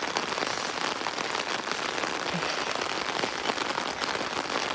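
A downpour before dawn on an empty minor road gives an unbroken, loud wash of rain on surfaces with scattered sharper drop impacts and nobody speaking.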